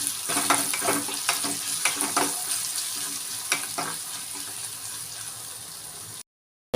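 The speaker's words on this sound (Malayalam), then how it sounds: "ഇത് നല്ലപോലെ ഇളക്കണം" A dish with a little salt being stirred in a hot pan, with loud sizzling and repeated scraping strokes of a spoon in an uneven rhythm, close up, ending abruptly in silence.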